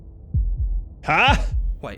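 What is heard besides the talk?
heartbeat sound in the video game Slay the Princess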